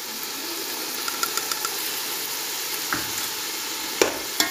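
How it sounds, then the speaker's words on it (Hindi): Whole chickpeas roasting in a pan with whole garam masala, a soft steady sizzle with a few faint scrapes of stirring and a couple of sharper clinks near the end. "आपने इसमें अच्छी तरह भुनाई करनी है चनों की। और साथ ही ये साबुत गरम मसाले जो मैंने रखे थे वो भी डाल देने हैं।"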